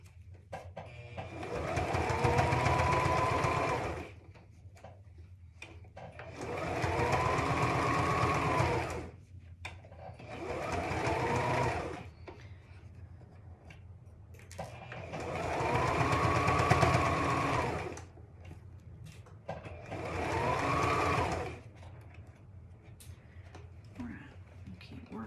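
A sewing machine stitches fabric for a child's hat in five separate bursts of whirring, each a few seconds long with quiet gaps between, recorded up close.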